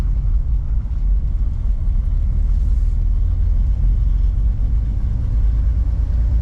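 Inside a 1953 Chevrolet Bel Air with unsynchronized gears, the engine gives a deep, steady rumble, heard close and continuous without talk.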